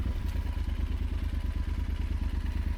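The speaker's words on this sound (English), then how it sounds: "That big parallel twin engine gives you all the torque you need, especially at low RPMs." A Yamaha Super Tenere 1200 adventure motorcycle with a big parallel twin engine runs in a steady, loud, rapid low-pitched throb with mechanical clatter, heard up close and alone.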